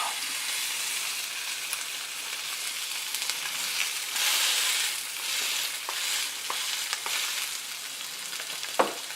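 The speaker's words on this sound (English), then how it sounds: "About 4 minutes in, it really starts to sizzle and crack." An okonomiyaki frying on a hot griddle, giving a steady close sizzle with scattered sharp crackles and pops throughout and one louder snap near the end.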